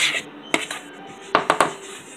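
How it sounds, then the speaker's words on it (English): A utensil clinks and scrapes against a bowl while crab, shrimp and lobster are stirred into a wet batter, a few light metallic taps and a quick cluster of clatters near the end, close and quiet. "I'm gonna mix that up, and I think I'm gonna do a wet batter"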